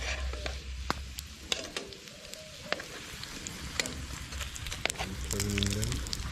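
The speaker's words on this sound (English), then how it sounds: "I'm just frying the breadfruit now." Breadfruit sizzles and crackles as it fries in hot oil for a Jamaican outdoor cook, a steady close sizzle with scattered pops, a brief voice underneath.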